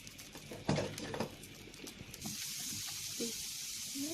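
Raw garlic sizzling in a lightly oiled pan while being stirred for Egyptian koshari, a faint, quiet hiss with soft scraping and spattering, one sharper clatter early on, the frying tapering into a steady low sizzle.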